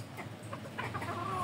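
A hen clucks softly in a few short calls, alone and fairly faint over a steady low background hum.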